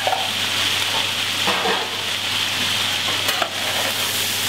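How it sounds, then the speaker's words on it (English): Spices searing in ginger garlic paste inside a large VarioCookingCenter commercial pan give a steady close sizzle with faint scraping and stirring strokes, no voices. "I have to sear the spices a little bit over here as well to get the nice flavors out."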